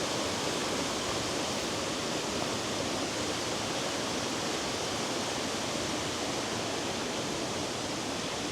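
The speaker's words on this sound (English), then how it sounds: "That is the waterfall." Halicki Waterfall in Yorkshire roars with a steady, broad rushing wash of falling water. It is continuous and even throughout, with no voices.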